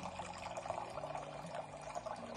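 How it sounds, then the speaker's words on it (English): Portable USB-rechargeable water dispenser pump on a water can pushing water out, a steady pouring and splashing stream with a light mechanical hum underneath, close and without speech. "So it only needs a press of the button and the water will come out automatically."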